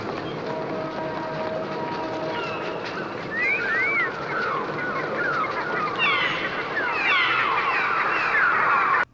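A dense chorus of many birds in the 1963 film The Birds chirps and squawks continuously, rising and layering over a steady rushing background, growing busier toward the end.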